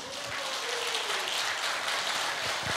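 An audience at a company promoter event claps together, a dense, steady wash of applause that stays loud and even throughout, with no voices rising above it.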